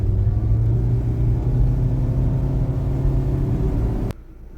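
A turbocharged DFSK Glory 580 Pro seven-seat SUV engine held at full throttle gives a loud, steady low rumble with a constant droning hum, cutting off abruptly near the end.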